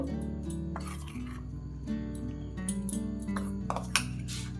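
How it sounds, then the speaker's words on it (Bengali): Metal spoon clinking against a bowl while cornflour is spooned into a chili chicken mixture, with a few light scrapes and taps close by, no voice. "কর্নফ্লাওয়ারটা আমি এবার চামচে করে দিয়ে দেব।"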